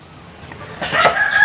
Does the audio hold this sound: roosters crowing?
yes